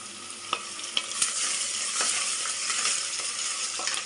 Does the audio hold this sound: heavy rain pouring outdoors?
no